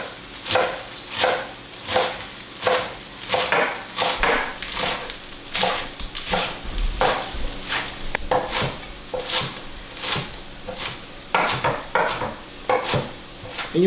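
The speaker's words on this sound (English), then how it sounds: "you want to give this a good little chop because you don't want to have a lot of strands of bok choy in your dish" A knife chops bok choy on a wooden board in a steady, fast rhythm of crisp thuds, close and clear, with no talking.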